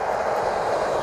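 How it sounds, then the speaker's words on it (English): A train rolls by close at hand, a steady, loud rumble with broad rail noise filling the whole stretch and no clear breaks. "There's a train going on."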